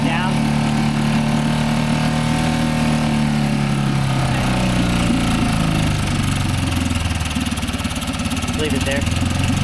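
A Honda outboard motor running on a boat transom, a loud close continuous engine drone whose pitch shifts as the throttle changes, with people talking over it.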